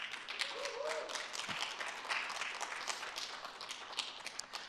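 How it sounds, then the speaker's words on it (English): Audience applause for Officer Kendall and the police at a city State of the City address in Gaithersburg, a crowd clapping steadily and fairly faint, with a brief thump and scattered murmurs underneath. "Can we give Officer Kendall and our police a big round of applause?"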